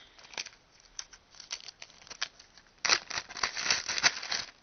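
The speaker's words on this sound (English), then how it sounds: "you're going to fill the plastic bag up with the candles." Candles dropped and shuffled into a plastic bag, giving crinkly plastic rustles and light clacks in scattered bursts that grow busier and louder toward the end, heard close up with no talking.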